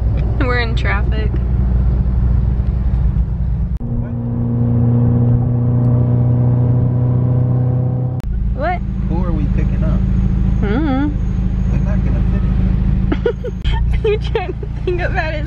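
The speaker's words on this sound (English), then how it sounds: "We're in traffic." Inside a car crawling through traffic: a steady low engine and road rumble fills the cabin throughout, with people talking close by over it.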